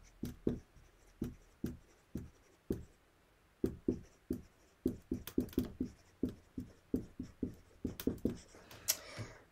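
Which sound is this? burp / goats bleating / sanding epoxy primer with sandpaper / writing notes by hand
writing notes by hand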